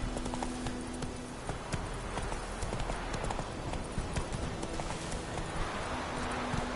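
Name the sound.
horse Roach galloping, hooves clip-clopping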